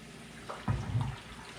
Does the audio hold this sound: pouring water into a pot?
yes